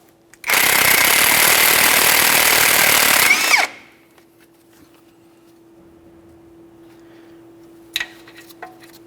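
Impact wrench spinning off the 21mm outer tie rod mounting nut on a 2004-2008 Ford F-150 steering knuckle: one loud continuous burst of about three seconds, then quiet garage hum and a brief clank.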